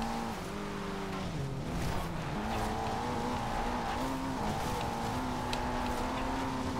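A tuned car in the Forza Horizon 2 racing game driving with a steady engine drone that rises and falls in pitch, while the tires squeal and skid underneath.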